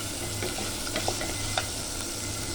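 Chicken pieces being stirred and sautéed in oil in a pan for Filipino arroz caldo, giving a soft continuous sizzle with a few faint scraping clicks of the spoon, close by and steady.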